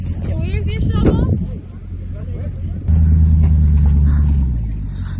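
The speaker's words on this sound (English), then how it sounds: "Literally all these cars are stuck." Idling car engines rumble low and steady among vehicles stuck in a snowstorm near Tahoe, growing louder midway as people talk over the noise.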